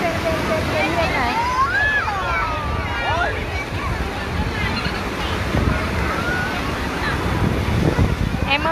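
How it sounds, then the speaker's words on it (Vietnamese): Surf at Sầm Sơn beach in Thanh Hóa, crowded on a weekend, washes continuously under wind noise, with people chatting nearby throughout. "Em ở bãi biển Sầm Sơn ấy,"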